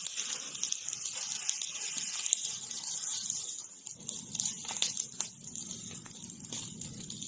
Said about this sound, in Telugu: అది నీరు ಬರ್ತಿದೆ ಬ್ರೋ